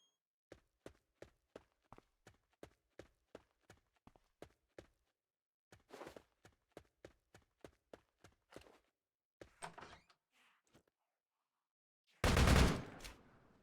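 Gunfire from a zombie video game, a rapid series of sharp single shots in a steady rhythm, then a pause, a second burst of shots with brief noisy blasts, and a loud final blast.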